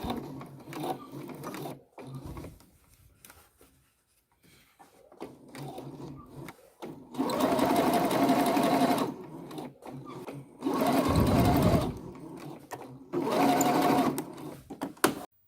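A sewing machine hems a pair of jeans in three steady whirring runs of a few seconds each, separated by quieter handling of the fabric, close and loud.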